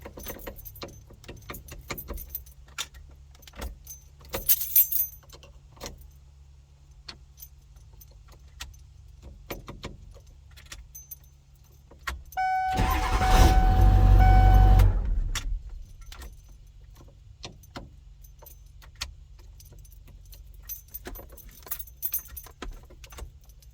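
A key jangling and working in a worn lock cylinder on an older Ford tilt steering column, several short metallic clicks and rattles spread over the clip, with a louder, denser burst of mechanical noise in the middle.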